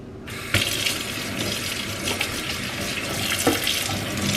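Running tap water rinsing polished silver in a kitchen sink, a steady close splashing flow with small clinks of metal, no speech.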